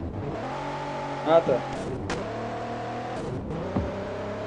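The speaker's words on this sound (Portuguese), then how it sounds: "Eu tô acelerando na tora, só pra ver." Car engine revving in the Car Parking Multiplayer driving game, a steady engine drone with tonal harmonics rising and falling through short revs, with someone speaking briefly over it.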